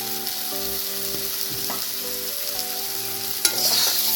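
A paste of green chilli, cumin and coriander sizzles steadily with potato in a pan, with occasional scraping strokes of a spoon stirring it and a louder clatter near the end.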